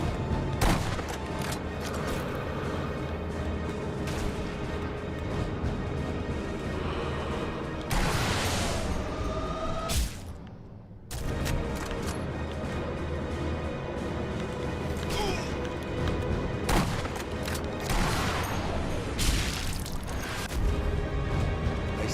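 Enemy gunfire in the video game Sniper Elite V2 comes as repeated loud shots and bursts with mechanical clatter, broken by a short quiet gap near the middle.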